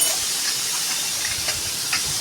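A pressure cooker holding Kerala-style mutton curry lets out a steady, close, fairly loud hiss of steam that runs unbroken for about two seconds, with faint higher flickers through it.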